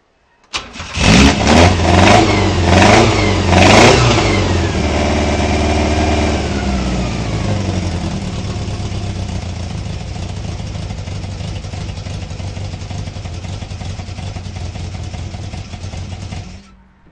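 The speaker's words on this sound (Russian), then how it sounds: "сейчас я заведу, вы послушайте, как она работает в повседневном режиме" A VAZ 2108 with a 16-valve engine and four-throttle intake cranks, fires and settles into a steady idle after a few blips of revs, loud and close with no talk.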